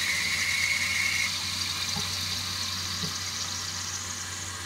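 A leaking toilet tank with a worn flapper refills through its float-ball valve, water hissing and rushing steadily, then a brief click as the valve shuts and the flow tapers off.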